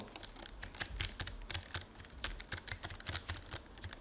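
Quick, fairly quiet typing on a SteelSeries Apex keyboard, a rapid irregular run of soft key clicks heard close up with nothing else.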